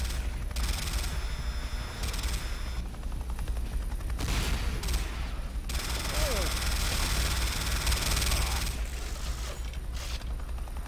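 Gunfire crackles through a Command & Conquer: Renegade battle in bursts of rapid shots layered over steady dense background noise, loud and continuous with brief gaps.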